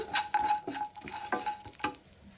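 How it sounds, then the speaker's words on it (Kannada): Curry leaves tossed into a hot pan for drumstick-leaf chutney powder, with stirring scrapes and light crackling sizzle in a few close, uneven strokes. "ಕರಿಬೇವನ್ನು ಹಾಕ್ಕೊಳ್ತಾ ಇದ್ದೇನೆ ಹಾಕ್ಕೊಳ್ಳೋಣ"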